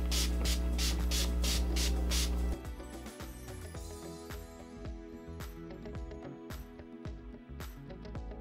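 Several quick, loud hissing bursts of Pure Bliss makeup setting spray mist in a row at the start, followed by quieter rustling and light handling noises.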